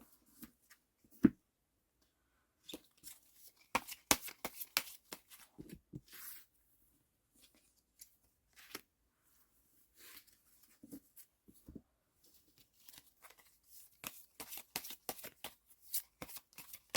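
Tarot cards are shuffled and drawn close up in a quiet room, with bursts of crisp riffling and flicking separated by short pauses and a few sharp slaps.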